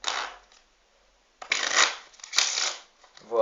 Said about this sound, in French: Voilà, un jeu de cartes bien mélangé.